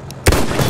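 A single sharp sniper rifle shot fired in the PC World War One shooter The Great War, a loud close crack with a brief rumbling tail that lingers afterward.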